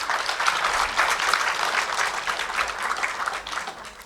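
A convocation audience applauds the graduates in a dense, continuous burst of clapping from many hands that holds steady throughout.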